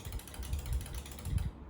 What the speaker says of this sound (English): let's talk about the sound of the joystick.